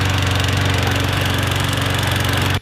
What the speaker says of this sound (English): that lawnmower sound is hilarious